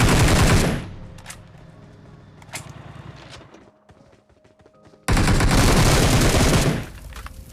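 Loud automatic gunfire from the BGMI video game erupts in sustained bursts at the start and again later, with quieter in-game ambience and scattered shots between the volleys.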